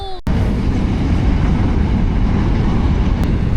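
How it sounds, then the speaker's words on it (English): A big freight train rolls past close by, a loud, continuous rumbling roar of wagons with faint rhythmic clatter, holding steady after a sharp onset. "What a big train just passed by."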